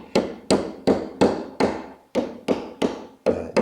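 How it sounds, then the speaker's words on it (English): A plastic-headed mallet gently tapping a wooden joint on a cocktail table top, ten crisp, evenly spaced close knocks in a steady rhythm, with no voices. "now my trusty plastic-headed mallet"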